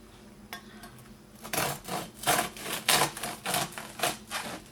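Knife sawing into a freshly baked seeded bread loaf, a run of rhythmic crunchy rasping strokes through the crust, close and fairly loud, with no talking.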